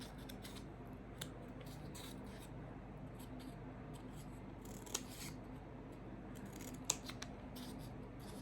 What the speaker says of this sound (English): Carefully using our scissors, we're just going to make a few small indents on the side.